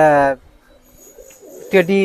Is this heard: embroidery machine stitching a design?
no